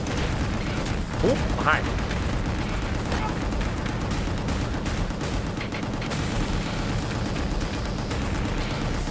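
Gunfire and explosions in the video game Gungrave G.O.R.E, a dense continuous clatter of shots and blasts with a few brief whooshing effects, while a voice speaks briefly over the chaotic combat.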